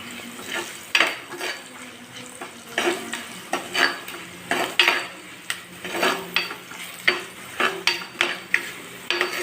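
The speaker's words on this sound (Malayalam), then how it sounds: "മഞ്ഞപ്പൊടി ഇട്ടിട്ട് ഒന്ന് ഇളക്കി കൊടുക്കും" Turmeric is stirred into ginger and garlic frying in a pan, with rhythmic spoon scrapes and clinks against the metal over a continuous close sizzle.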